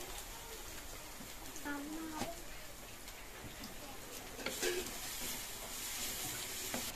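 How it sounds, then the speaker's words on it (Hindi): Stuffed pehta frying in a pan gives a soft, steady sizzle with occasional faint clinks of stirring, low in level beneath someone talking. "ये देखिए इसको अच्छे से फ्राई कर लिया जाएगा दोस्तों"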